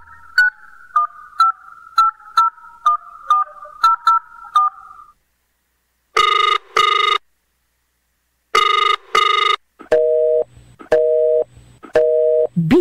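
A telephone call first rings out as a string of short dialing beeps. Loud paired busy-signal tones follow, then a lower repeating beep pattern. The electronic tones sound alone, separated by silent gaps.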